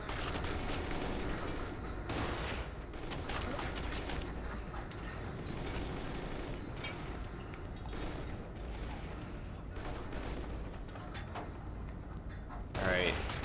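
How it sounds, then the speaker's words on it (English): Enemy gunfire in Kane & Lynch 2: Dog Days, a steady, dense rattle of shots and clanking mechanisms that stays moderately quiet across the whole stretch, with a louder burst near the end. "there's a Chinese man right there shooting me"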